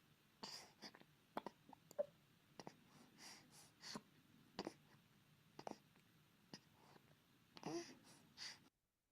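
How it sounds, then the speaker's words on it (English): A baby feeding up close makes small gulps, wet clicks and soft grunts in irregular bursts, with quiet breathing between them and faint stretches in between. "So just a lot of gulping, clicking, grunting."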